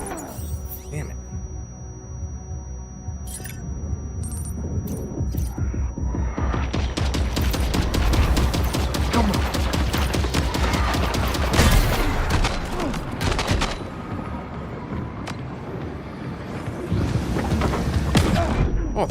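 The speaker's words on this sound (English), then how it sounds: "Oh, they're heat-seeking rockets?" Heat-seeking rockets exploding in the video game Death Stranding 2, a dense barrage of booms and thuds that swells into a sustained roaring rumble, loud and continuous.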